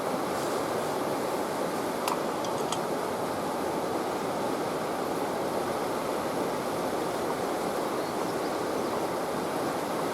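Wind blowing straight off a river outdoors during a camp stove test, a constant loud broadband rush that fills the whole stretch without letting up.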